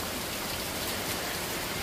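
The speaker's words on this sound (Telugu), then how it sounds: "ఇప్పుడు అయితే పెద్ద వర్షం పడుతుండగా" Heavy rain pours steadily as a dense, even hiss close by, with no voices and no breaks.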